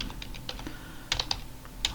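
Keyboard typing while writing notes: soft, irregular key clicks in short bursts with a few sharper taps, close and fairly quiet over a low room hum.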